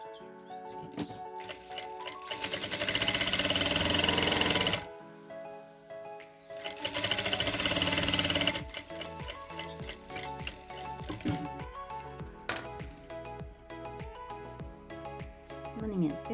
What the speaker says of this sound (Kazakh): Астына қарай айналып түсетін частьтарды бір-біріне біріктіріп тігіп аламыз.